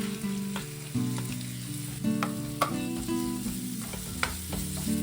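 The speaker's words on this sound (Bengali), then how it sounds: "ভালো করে এই মশলাটাকে কষাবো" Masala with Kashmiri red chili powder and chopped tomatoes fries in a pan with a steady close sizzle, broken by regular scraping stirs and soft clinks, with no voices.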